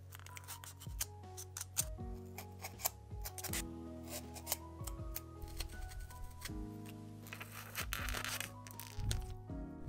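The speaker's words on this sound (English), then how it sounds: "I used my X-Acto knife to cut all sorts of damage and wear" An X-Acto knife cuts damage and wear into craft stonework for a miniature fairy-tale alchemist's shop. Close, quiet scraping and sharp ticking cuts arrive in irregular bursts over a low background hum.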